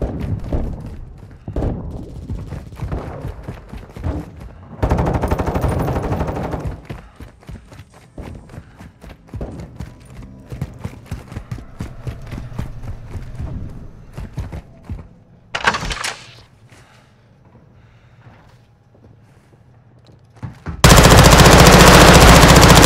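Rapid automatic gunfire and single shots from a Call of Duty: Modern Warfare 2 Team Deathmatch, loud bursts running through the match with brief lulls, then a sudden loud blast of noise at the end.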